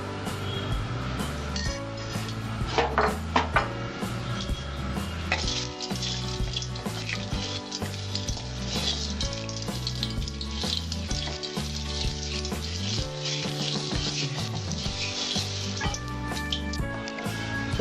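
Mustard oil heats in a wok with a continuous close sizzle and crackle, mixed with clinks and layered under background music.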